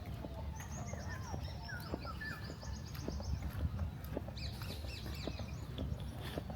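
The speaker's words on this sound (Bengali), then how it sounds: "প্রচুর পাখি কলতান শোনা যাচ্ছে" Several birds chirp and whistle at a distance in a botanical garden with lakes, over a steady outdoor background hum, calls scattered and overlapping.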